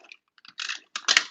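Computer keyboard typing in a brief, close flurry of a few quick keystrokes in a quiet room.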